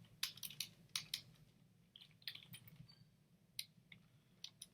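Someone types on a computer keyboard with quiet, irregular clicks in short bursts, near and faint over a low background hum.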